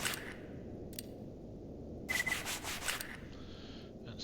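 Rubbing and scrubbing strokes of a gun barrel being cleaned in STALKER GAMMA, soft and close over a steady low background hum, with a brief burst of quicker strokes partway through.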